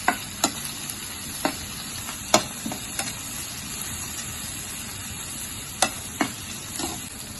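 Cumin seeds sizzle steadily in hot oil in a frying pan, with sharp scraping clicks from a spoon stirring them at irregular intervals, close and continuous.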